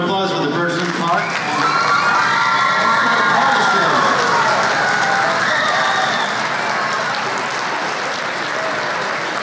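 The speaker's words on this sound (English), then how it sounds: "How about another round of applause for the Bergeron Park?" Audience at a school music concert bursts into loud applause and cheering, with children shouting and voices over a dense, sustained wall of clapping.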